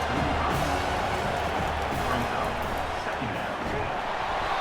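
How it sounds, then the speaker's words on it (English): A football stadium crowd roars steadily for the defense on third down at a Marshall versus Penn State college game, a dense, loud wall of cheering that swells and holds throughout. "Decibels rising as the crowd gets behind this defense on third down"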